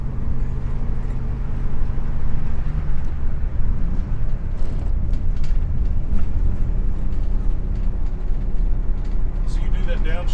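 Heavy bus engine rumbling loud and steady with low droning harmonics while downshifting, the pitch shifting as the gears change, with people talking over it.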